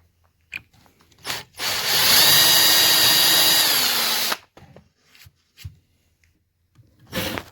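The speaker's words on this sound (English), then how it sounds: "now I'm just going to drill it out" A power drill bores holes through angled aluminum for a hidden hinge on a jon boat, one sustained whining burst of about two seconds, close and loud, framed by brief handling knocks and scrapes.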